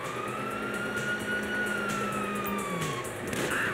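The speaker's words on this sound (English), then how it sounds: "you hear that? Sirens." Police sirens wail in Grand Theft Auto 5, a steady rising and falling tone sustained throughout amid engine and traffic noise, loud and fairly close.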